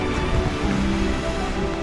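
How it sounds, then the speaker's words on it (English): Rain falls outdoors in the Northern Territory near Uluru, a steady close wash of patter and hiss with no voices. "And it started raining here."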